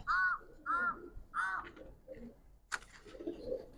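Giribaz coloring and racer pigeons in a loft calling close by: three loud, evenly spaced calls, then softer low murmuring and one sharp click.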